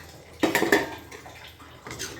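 Cauliflower soaked in hot water is tipped into a pan of partly cooked potatoes, making a short burst of wet clattering, followed a moment later by a softer second rattle.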